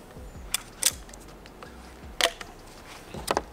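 An American crossbow is reloaded and cocked, giving a few sharp, close mechanical clicks and clacks spread out over a few seconds against a quiet background.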